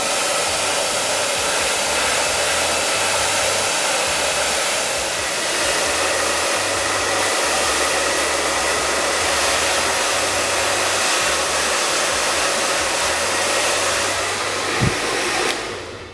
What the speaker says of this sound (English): Grab your blow dryer.